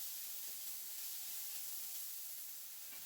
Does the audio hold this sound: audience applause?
no